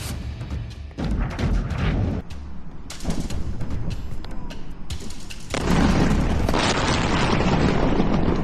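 Bombing strikes on military infrastructure in Iran come through as a series of heavy booms and blasts, loud rumbling bursts that rise and crowd together toward the end.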